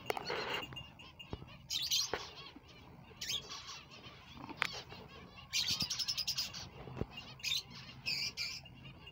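Dense chirping and twittering from a large breeding colony of finches in an aviary, with bursts of wing flapping; many birds call at once, close and steady throughout.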